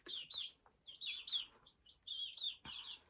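Fluffy silkie chicks peep in quick, high chirps, several short calls in irregular bursts, close by and fairly soft, with no talking.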